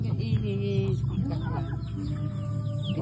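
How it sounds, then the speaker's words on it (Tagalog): An old chicken clucks in short, irregular bursts close by, mixed with other fowl calls and farmyard noise throughout a few seconds. "Ito yung pinakamatandang manok."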